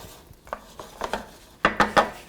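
Metal utensil scraping and knocking in a pan of potatoes seasoned with salt, cooking beside an open fire; several sharp clanks, sparse at first then louder and quicker toward the end, with no talk.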